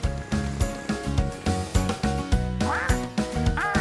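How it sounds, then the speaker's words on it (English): A cartoon duck from a children's construction-truck animation quacks repeatedly in a bouncy rhythm with cartoon sound effects and music, loud and close, no talking. "That's Dylan the duck."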